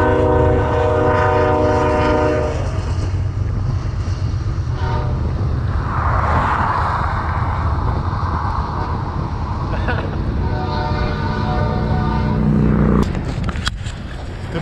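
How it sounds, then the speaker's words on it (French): A train passing by in Manitoba, a loud sustained rumble with horn-like tonal bands running throughout and swelling midway, then cutting off abruptly near the end, with voices talking over it. "C'est le train qui passe."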